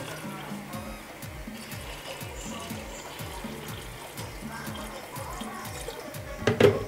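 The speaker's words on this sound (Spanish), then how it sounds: "Ahora le voy a poner un chorrito más de agua." Water pours from a container into a pot of cooking meat, a steady trickling splash at moderate level with a faint rhythmic tapping beneath, and a short clatter near the end.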